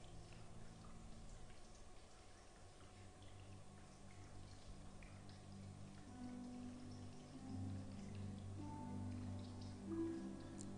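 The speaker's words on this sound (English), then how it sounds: "And the downpour begins, continuing to the end of the ceremony." Steady rain falls throughout, a constant wash of drops with a low rumbling undertone, growing slightly heavier toward the end.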